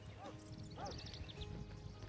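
A ridden horse is worked over rough terrain, with its hooves striking in a faint, uneven clip-clop. A couple of soft whinny-like calls rise briefly over the low outdoor background.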